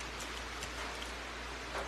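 Steady rain falls in a dense, even hiss throughout, with no voices and no breaks in the downpour.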